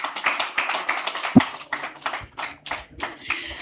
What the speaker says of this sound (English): Please, a round of applause for the both of them.